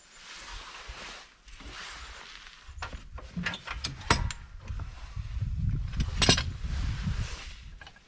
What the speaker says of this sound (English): All right, now these pins have to come out over here.